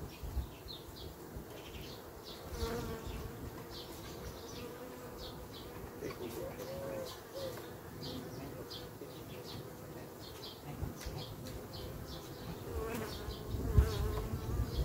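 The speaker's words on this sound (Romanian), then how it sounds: "Totodată vedem că a rămas și destul albină." A dense, steady buzz of many honey bees close by at an artificial swarm hive, with faint bird chirps scattered in the background.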